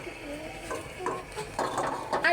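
Meat and potatoes for biryani stirred in a pot, soft scraping and clinking of a utensil against metal in uneven strokes that grow louder toward the end, fairly quiet and close.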